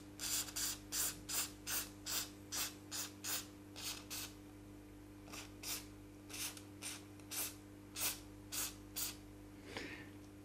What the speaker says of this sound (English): Spraying a liquid on your circuit boards.